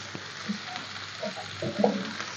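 Vegetables with egg, shrimp and chicken for fried rice sizzle softly in a pan while being stirred, with a few light scrapes and clinks standing out over a steady low frying hiss.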